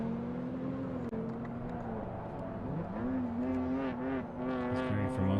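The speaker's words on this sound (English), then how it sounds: "I just heard about 5-6 cars go past me on the front straight here." Time attack race cars pass at full throttle on the front straight at Circuit of the Americas, engine notes rising and falling as several cars go by, fairly distant and steady.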